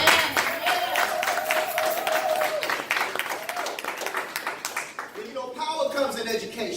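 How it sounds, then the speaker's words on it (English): An audience at a poetry performance bursts into applause, a dense wash of clapping that fades around the five-second mark as a voice speaks over and after it. "By round of applause."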